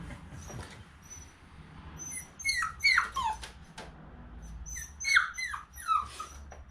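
Young puppy whimpering and whining in several short, high, wavering cries, close and fairly quiet, in a brief stretch with no talk.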